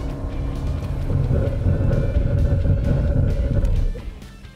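Car driving at about 70 km/h on a wet track during a defensive driving exercise, steady loud engine and road rumble with tyre hiss that builds after a second and cuts off abruptly near the end; no talking.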